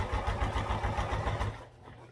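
A sewing machine stitching a seam at a small stitch length, steady fast mechanical pulsing for about a second and a half before stopping.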